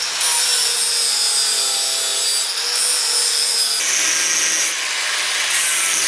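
Corners of metal steering brackets for a Super 7 Locost kit car are rounded off with a power tool, a loud continuous grinding hiss with pitch shifts as pressure changes.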